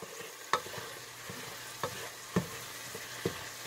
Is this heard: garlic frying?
yes